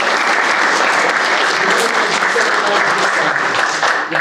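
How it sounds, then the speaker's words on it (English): A room full of guests at a veterans recognition breakfast applauds loudly and continuously, a dense, even wash of clapping with no letup. "I just want to give you one more round of applause"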